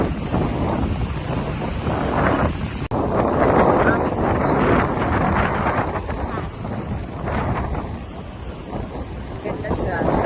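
Strong wind buffets the microphone at a breezy seaside spot in Aklan, Philippines, a constant loud roaring gust with surf-like wash beneath and a brief knock partway through.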